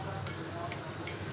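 Pitha dough frying in hot oil, giving a steady soft sizzle and bubbling that runs evenly throughout, with faint clicks on top and no voices.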